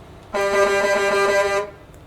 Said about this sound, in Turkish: Korna ile sizi selamlıyorum.